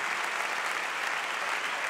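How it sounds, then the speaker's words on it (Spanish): Steady, dense applause from a gala audience, a continuous crackle of clapping hands that holds evenly throughout without pause or voices. "vamos a hacer un poquito un aplauso fuerte"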